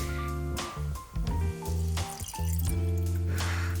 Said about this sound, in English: Now I'm going to take my watering can.